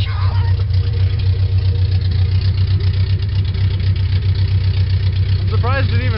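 A 22RE engine in a 4Runner idles in neutral through an open Pacesetter header with the O2 sensor removed, a loud steady low throb with constant rumble throughout, close up, with a brief voice near the end.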